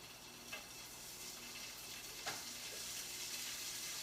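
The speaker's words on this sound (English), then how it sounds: "since there's seasoning already in there, I throw in my my bacon." Bacon sizzles in a hot, already seasoned pan, a faint, steady hiss of frying with a few soft ticks and clicks scattered through it.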